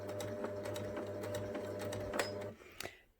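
Sewing machine stitching in reverse on the ear of a fabric memory bear, a steady fast mechanical whir with a low hum, close and continuous for about two and a half seconds before stopping with a few faint clicks.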